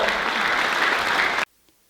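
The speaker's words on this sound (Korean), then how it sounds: "여러분 큰 박수로 서로 자축해 주시기 바랍니다" Loud, dense applause from a crowd of officials and business leaders at a 2023 New Year gathering in Yeosu, South Jeolla, holding steady for about a second and a half before stopping abruptly into near silence.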